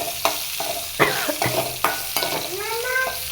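Vegetables fry in oil with a steady sizzle, and a utensil stirring and scraping the pan makes several distinct knocks. The sound is close and there is no talking.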